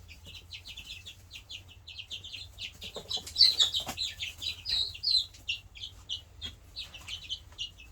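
Young black copper maran chickens cluck and peep in a quiet coop, bursts of soft calls rising and falling, fairly faint with no talk.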